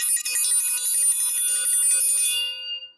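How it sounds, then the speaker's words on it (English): A bright bell rings out once and sustains with a shimmering, slowly fading tone for about two and a half seconds, clear and close with no talking over it. "I'm ringing the bell for that."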